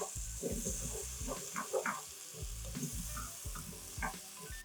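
Seasoned sweet potato with chopped rosemary, salt and black pepper being tossed in a hot pan, with quiet sizzling under rhythmic scraping and shuffling strokes, close and fairly soft, no talk.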